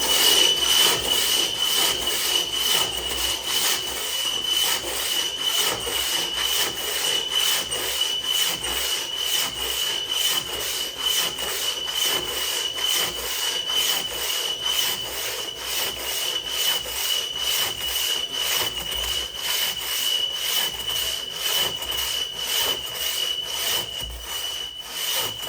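Hand saw cutting through an 18-inch radiata pine log, a steady rhythmic rasp of strokes that carries on loud and unbroken, close to the listener, for the whole length with no talking.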